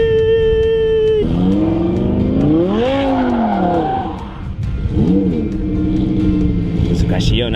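Lamborghini drifting, its engine revving hard with rising and falling pitch and tires squealing, loud and close, with a voice speaking over it.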